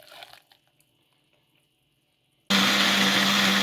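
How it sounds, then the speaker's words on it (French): A kitchen blender switches on abruptly and runs loud and steady, puréeing softened vegetables with a little sauce for a thick graine sauce, after a few seconds of faint handling noises. "je viens mixer mes légumes"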